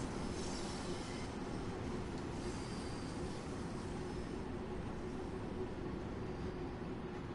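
A Bakerloo Line train runs steadily in Train Sim World 2, with a continuous low rumble of wheels and motor and a faint high whine on top, unbroken throughout and no voices.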